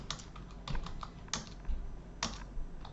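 Quick bursts of keystrokes on a computer keyboard while configuring a router, close and crisp, clattering in short irregular runs with brief pauses between, no talking.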